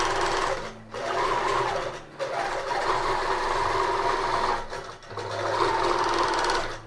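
A quilting machine stitches an embroidery design onto fabric with a steady, loud mechanical whir, briefly pausing three times before resuming its continuous hum.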